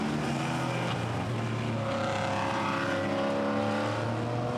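GT4 race cars at Misano circuit, with a Maserati running wide, a continuous loud engine drone with shifting tones as cars pass and rev, no voices.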